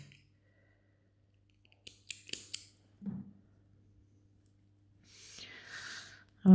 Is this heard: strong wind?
no